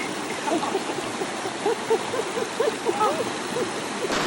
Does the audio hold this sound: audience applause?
no